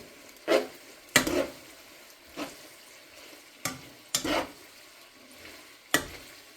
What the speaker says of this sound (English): Now, you gotta shake this around, get that pasta nice and coated.